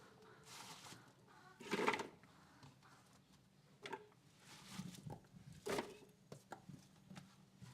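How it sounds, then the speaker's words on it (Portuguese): Food is chopped by hand with a knife rather than in a blender, in quiet, faint, irregular taps and knocks on a cutting board that cluster into brief bursts. "Não estou fazendo no liquidificador. Senão que estou picando."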